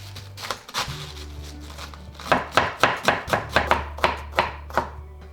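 A knife slices cored cabbage into thin strips on a cutting board. A few scattered cuts are followed by a fast, even run of about a dozen crisp, close thuds.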